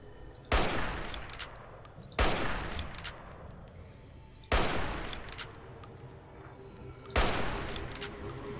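Four heavy gunshots from Fallout: New Vegas, each a loud, sharp blast with a long rolling tail, fired at uneven gaps of a couple of seconds, with no voices over them.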